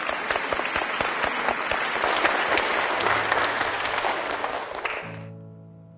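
A crowd applauds loudly and steadily with dense clapping for about five seconds, then the applause cuts off abruptly, leaving a brief low hum.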